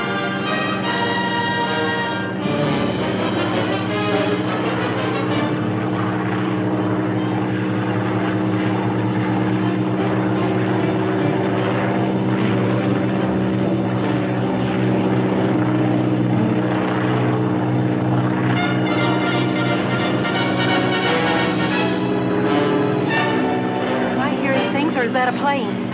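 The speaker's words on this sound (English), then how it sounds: "Or is that a plane? That's a plane, all right." A propeller airplane drones steadily overhead for the whole stretch, a loud continuous engine hum with shifting tone, set in a 1940s jungle adventure serial, with no one speaking over it.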